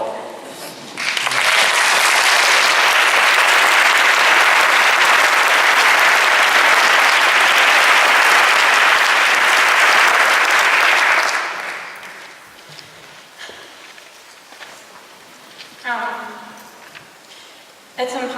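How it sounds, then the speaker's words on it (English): A memorial audience bursts into loud, sustained applause for about ten seconds, which then fades out, followed by quieter speech and some sounds in the room. "Please feel free to applaud the speakers and the musicians"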